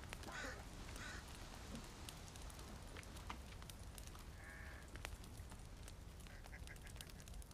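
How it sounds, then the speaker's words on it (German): Ducks quacking in the survival video game The Forest, a few faint, scattered calls over a steady wash of ambient rain and forest noise, with no one talking. "Ja, Enten. Süß."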